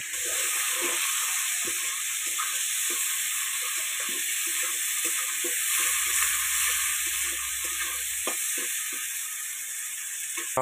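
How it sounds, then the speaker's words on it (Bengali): Sliced onions fry in hot mustard oil with sugar for Bengali chicken kosha, producing a loud, continuous sizzle close up, dotted with soft stirring knocks and clicks throughout. "পেঁয়াজ লাল লাল করে ভেজে নেব।"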